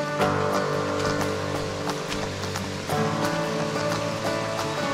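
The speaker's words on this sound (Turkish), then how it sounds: "Yine de suyun akması çok güzel." River water running steadily through a forest along a walking trail, a loud, continuous broadband rush close by with a slight shift in texture partway through.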